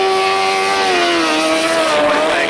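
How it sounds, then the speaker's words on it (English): A grasstrack racing motorcycle sidecar at the 1991 Staplecross meeting screams at high revs, its loud, close, continuous engine whine holding steady and then sliding slightly lower. "It's really revving, that thing. It's really screaming with Pete Watkins and Lee Packham on board"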